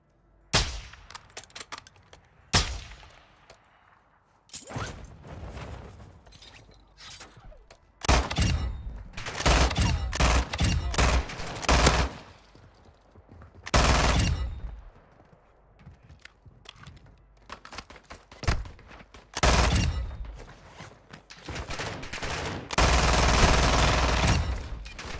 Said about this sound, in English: Saw a gunshot from the AI.